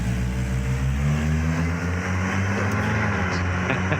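Twin-engine Honda CRX in a racing video game driving past, loud droning engine tones that shift in pitch as the car approaches and recedes, with no voices.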